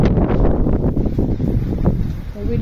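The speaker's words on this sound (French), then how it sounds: "Oui, le vent." Gusty wind buffets the microphone outside a hotel in Monterey, a loud low rumble that swells and dips throughout, with no other clear sound above it.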